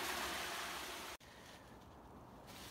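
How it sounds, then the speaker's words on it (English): Steady broadband rush of water flowing over a beaver dam, continuous and fairly close, with a brief dropout partway through before the wash resumes. "Heard what I thought might be a waterfall, turns out beaver dam."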